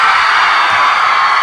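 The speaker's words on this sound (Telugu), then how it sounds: "ఇంకొకసారి గట్టిగా అరవండి." Fans at a Telugu film song-release event for Aadhi Part 2 shout and cheer, a loud, dense roar of crowd voices that stays steady and close throughout.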